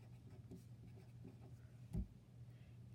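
Pen on paper while writing a date and a number in a bank log: faint, close scratching strokes in short irregular bursts, with one firmer tap near the middle, very quiet and without talk.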